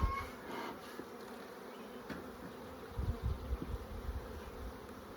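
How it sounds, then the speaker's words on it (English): Honeybees buzz on a hive body, a quiet, continuous drone with a few louder thumps and rustles partway through. "there are bees everywhere down here. Like on the hive body"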